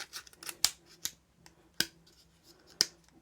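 Stiff tools are pried out of a credit-card-sized metal multitool, producing several sharp close clicks and snaps spaced irregularly across a quiet background.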